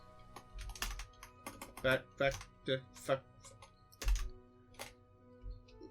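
Computer keyboard keys click in quick, uneven bursts of taps close to the microphone, with people talking briefly over the typing.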